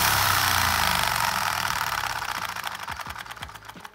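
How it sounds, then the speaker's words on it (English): A Lego vacuum engine runs with a fast mechanical whirring and rattling clatter that shifts in tone and turns into sharper, uneven ticks toward the end, up close and alone. "now the engine should be running"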